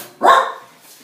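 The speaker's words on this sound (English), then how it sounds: "My dog is bothering me." A pet dog gives one sharp, close bark that quickly fades into a quiet room.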